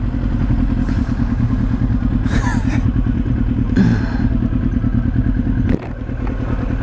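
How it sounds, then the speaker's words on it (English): A motorcycle runs with its chain skipping, giving a fast rhythmic clatter over the steady engine drone, with occasional thumps and scrapes, close and loud throughout. "What is that noise? Like if the chain is skipping."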